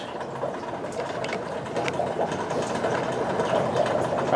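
Dry ice bubbling and boiling in a bowl of water, a continuous churning, rumbling fizz that grows slightly louder over a few seconds.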